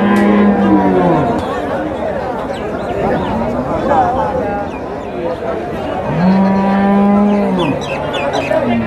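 A milking cow at Pabna's Oronkola cattle market moos loudly twice, one long low call at the start and another near the end, with market chatter and people talking around it.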